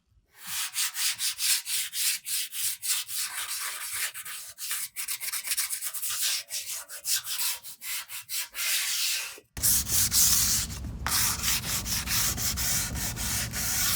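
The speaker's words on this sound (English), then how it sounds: "I've got 320 sandpaper and I'm just gonna lightly distress this." Fine 320-grit sandpaper rubbing by hand over painted furniture to lightly distress it, a steady run of close, scratchy back-and-forth strokes that continues without pause, with no talking.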